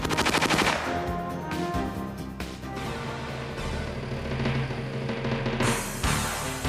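A K4 high-speed grenade machine gun firing in the field, a loud, continuous hammering burst of rapid automatic shots that keeps going across the whole stretch.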